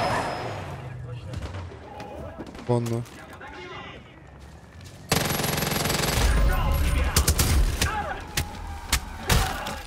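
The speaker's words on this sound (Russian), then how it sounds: "Четко пушка." Gunfire from a weapon in the video game Far Cry 5: a burst of loud, rapid shots and heavy impacts fills the second half, after an earlier stretch of game noise, with someone speaking briefly.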